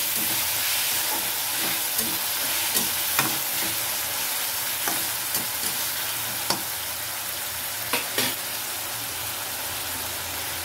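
Chopped tomato stirred into frying egg bhurji, with a steady close sizzle and repeated scraping clicks of the spoon against the pan at an irregular rhythm, no voices.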